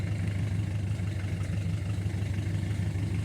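A small low-revving tractor engine idles steadily while hilling potatoes in a field, giving a continuous low rumbling clatter at moderate distance with no voices over it.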